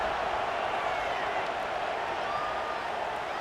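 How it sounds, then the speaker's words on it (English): A packed stadium crowd in the College Football 26 game, Oregon vs Liberty, hums with a steady, even roar of cheering and chatter that holds without breaks. "this crowd is buzzing after that last score"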